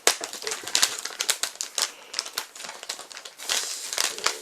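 Swiss army knife scissors cutting through packaging on a snack box, producing close crisp snips and plastic crinkling in uneven bursts throughout.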